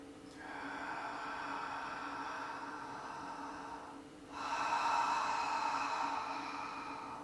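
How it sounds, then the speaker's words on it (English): Slow, steady inhalations in a guided breathing exercise, the rib cage widening to the sides; two long airy breaths, the second louder after a brief pause, close and alone. "We're expanding the rib cages out to the side on the beginning of the inhale, and then bringing them in."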